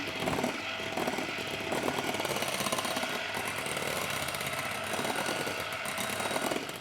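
An electric hand mixer runs on slow speed, blending ingredients for an 18th-century-style eggnog in a bowl, a loud, constant whirring drone with a faint rattle that continues without pause.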